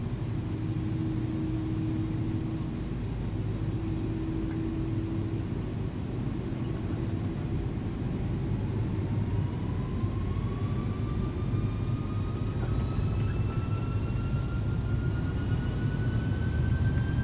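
Airbus A300 engines at takeoff power in the X-Plane 11 flight simulator produce a loud, continuous jet roar with a low rumble and a steadily rising whine, with no talk over it.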